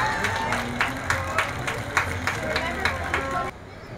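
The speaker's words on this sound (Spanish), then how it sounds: "¡Un aplauso para él!" An outdoor crowd at a Fiestas Patrias parade applauds a tenor from Mexico, a sustained wash of clapping and cheering with a rhythmic pulse, fairly loud, before cutting off abruptly near the end.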